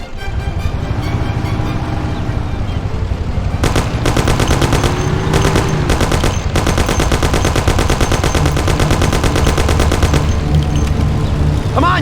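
Thompson submachine gun from the Mafia video game firing in long sustained automatic bursts, loud and close, over a steady engine drone with brief pauses between bursts.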